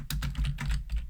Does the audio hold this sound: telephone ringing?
no